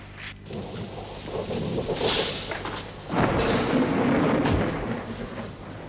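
Thunder rumbles in a storm, with deep rolling booms swelling and fading, a heavier crash breaking in midway and lingering as a long, loud rumble, heard without speech.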